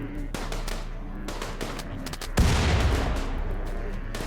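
Frag grenade blasts in the colony-building video game RimWorld, a dense crackle of in-game combat capped by a louder booming explosion midway, with people talking over it.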